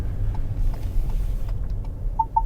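Car engine rumbling low and steady as it pulls over to the left on a road, with a faint rhythmic ticking of the indicator near the end.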